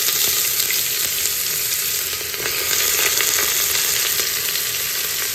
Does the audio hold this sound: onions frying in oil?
yes